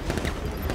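Rapid gunfire in Batman Arkham Knight, a dense, loud burst of shots filling the whole short moment with no talking.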